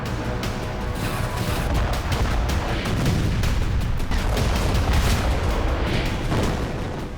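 Explosions from a destroyed fuel-carrying train in the Russia-Ukraine war: continuous heavy rumbling blasts roll one into another, loud and close, with crackling bursts layered over a deep booming roar.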